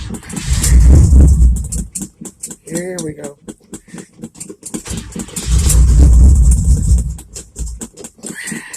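A 1978 Chevy C10 Stepside pickup with a worn 307 V8 cranks from cold and catches, with two loud surges of engine roar separated by sputtering, close to the microphone, while someone speaks briefly.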